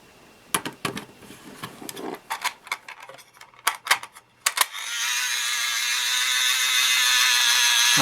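A refurbished cassette robot toy's arm mechanism works up close, with a run of sharp ratcheting clicks and gear snaps, then a steady whirring motor hum that holds to the end.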